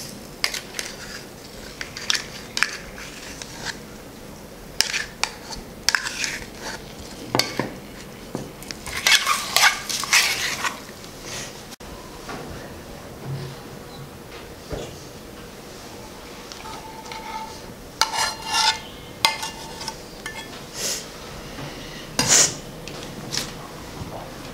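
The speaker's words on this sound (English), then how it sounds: "Finally, mix chocolate with yogurt chocolate." Chocolate and yogurt mixed in a bowl in a children's kitchen class, with repeated clinks and scrapes of utensil on bowl in irregular bursts and pauses, and voices in the background.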